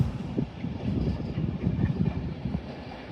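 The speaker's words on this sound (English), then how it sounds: "Arriving in now is your delayed 10:08 LNER Intercity 225 set, running from Leeds to London King's Cross." LNER Intercity 225 set, a delayed Leeds to London King's Cross service, pulling into Doncaster station on the East Coast Main Line, heard as a steady low rumble of wheels and running gear with some wind noise on the microphone.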